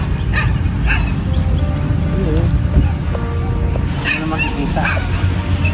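Several dogs bark and yip in short bursts at moderate distance, over a steady background rumble with some voices.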